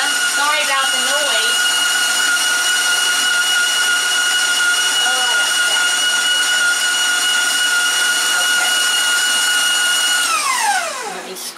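A stand mixer creams butter for Christmas baking, its loud steady motor whine running close and unbroken for about ten seconds before winding down at the end.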